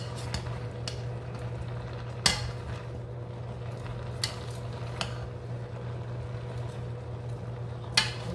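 Chicken sancocho with pumpkin gets stirred in a pot, quiet scraping and shuffling of pieces under a low steady hum, with a few sharp clinks of the spoon against the pot.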